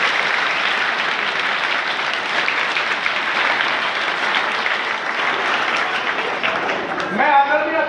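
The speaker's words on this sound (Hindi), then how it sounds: "बजाओ जोरदार तालियां" Loud, dense audience applause, a continuous roar of clapping that holds steady, with a voice breaking in right at the end.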